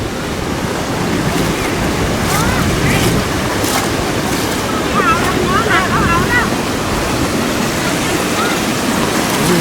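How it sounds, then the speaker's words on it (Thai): Floodwater rushing across a flooded road in Thailand, a loud, constant turbulent wash with wind buffeting the microphone and faint chirping sounds in the middle. "น้ำไหลเด้อ"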